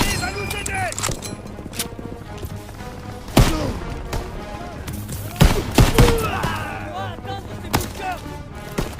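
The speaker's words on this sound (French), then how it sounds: "Impossible d'avancer, ces mitrailleuses tirent sur notre position." Machine guns fire in the Call of Duty WW2 D-Day mission, sharp loud bursts and single cracks scattered over battlefield clatter, with voices shouting between shots.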